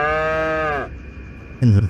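A cow lows in a long, drawn-out moo, then after a short quiet stretch a second, shorter moo starts.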